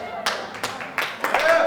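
Scattered audience clapping in a talk venue, a few sharp bursts of claps rising and falling over under two seconds, fairly close and moderately loud.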